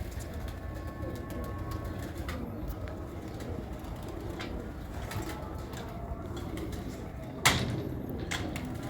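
A fancy-breed pigeon coos softly in a quiet room, low murmuring calls repeating under faint background noise, with a sharp click near the end and no talk.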